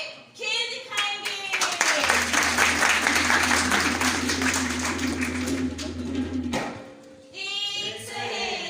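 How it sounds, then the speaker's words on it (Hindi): An audience claps in a dense burst at a stage drama, with a voice before and after and a low steady hum under the applause. "आप तालियां बजाएं"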